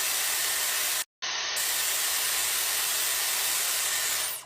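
A hair dryer switched to its cool setting blows with a steady, loud airy rush, cutting out for a split second early on before resuming and running on unchanged, no talking.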